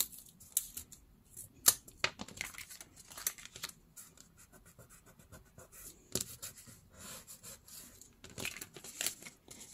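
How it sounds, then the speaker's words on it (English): Scissors snipping medical tape on a Halloween coffin treat box, a series of quiet, close crisp cuts and small rustles spaced irregularly with short pauses between them. "Gonna cut one more time here"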